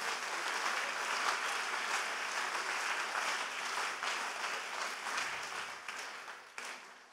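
Church congregation clapping at a Communion Sunday service, a dense steady patter of many hands sustained throughout, thinning slightly toward the end.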